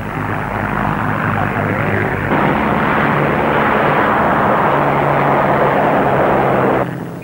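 A propeller aircraft takes off in an air race, a loud, steady engine roar with a rough, droning buzz that holds for several seconds and then drops off sharply, heard alone without speech.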